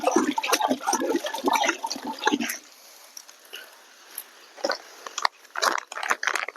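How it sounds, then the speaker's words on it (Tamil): Chemical powder is stirred into about 25 litres of water for treating mushroom-growing straw, giving close, splashy sloshing with a quieter stretch between bursts of agitation. "மருந்தை கலந்துருவோம்."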